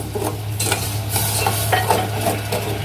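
Sugar with a little water is stirred in a pan, a spoon scraping and clinking against the metal in short repeated strokes, close and fairly quiet, with a steady low hum beneath.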